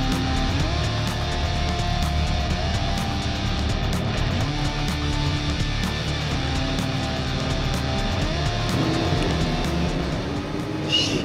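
A Formula 4 single-seater race car drives at speed, its engine a loud continuous drone with rising and falling pitch as it revs through gears.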